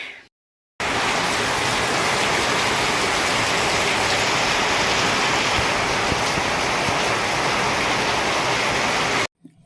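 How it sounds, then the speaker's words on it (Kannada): Heavy rain pours down in a dense, loud, unbroken rush, starting abruptly after a brief silence and cutting off at the end. "ಎಷ್ಟು ಜೋರು ಐತೆ ಮಳೆ."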